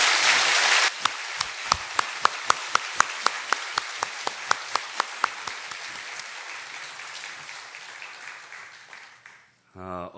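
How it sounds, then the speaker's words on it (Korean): Church congregation applauding in encouragement for the Hallelujah choir conductor, a full burst of clapping that settles into a sharp unison rhythmic beat, then tapers away, with a voice at the very end. "여러분 격려의 박수 한번 다시 보내주세요."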